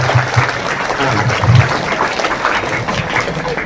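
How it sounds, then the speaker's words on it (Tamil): Children in a school audience clap together in a dense, steady burst of applause lasting a few seconds, fairly close and loud, with no talking over it. "பவித்ராக்கு ஒரு பாராட்டு தெரிஞ்சுக்கணும் எல்லாருமே."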